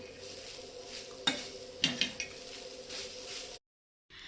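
Fresh grated coconut roasting in a pan with cardamom powder, stirred with a utensil: a soft steady sizzle with a few sharp scrapes and clinks of spoon against pan, then a brief silence before the sizzle resumes.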